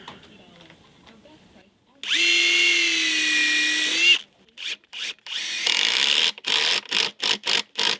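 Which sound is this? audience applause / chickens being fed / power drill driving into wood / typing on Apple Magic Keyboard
power drill driving into wood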